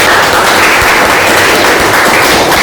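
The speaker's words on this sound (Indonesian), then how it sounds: "tepuk tangan buat kelompok satu" Classroom applause for group one, a dense, loud and sustained wash of many hands clapping together with no talk over it.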